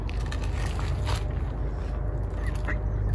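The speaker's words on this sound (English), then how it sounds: "Here, I'm tricking the ducks / geese." Ducks and geese quack and honk close by over a loud, continuous background noise.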